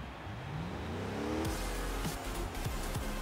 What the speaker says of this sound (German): die Drehzahl schießt richtig schnell nach oben, ne?